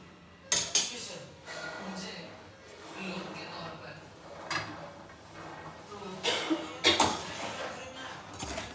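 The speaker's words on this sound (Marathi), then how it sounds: "मीठ गरम झालेलं आहे. आता मी नाही ते शेंगदाणे टाकून घेते." Raw peanuts are poured into hot salt in a home kitchen pan, giving sharp rattling clinks and scrapes in a few bursts, while someone talks throughout.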